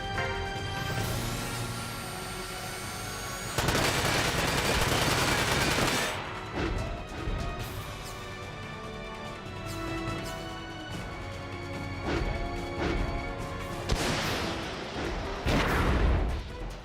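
Sustained weapon fire in a Front Mission 5 mech battle: continuous loud bursts of gunfire and heavy impacts, with especially intense barrages early, mid-clip and near the end, all without any talk.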